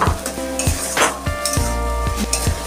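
Onion, ginger, garlic and tomato paste sizzle in a pan under repeated sharp clinks and scrapes of a utensil against the pot, roughly every half second, close and clear with no talking.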